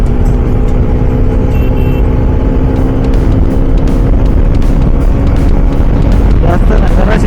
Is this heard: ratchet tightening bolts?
no